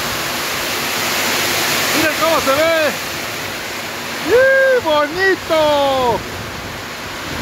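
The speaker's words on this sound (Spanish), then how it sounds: "qué padre está lloviendo" Heavy rain from a storm pours down steadily at a ranch with calves sheltering, a loud broadband wash of water running throughout, with excited voices talking over it in the middle.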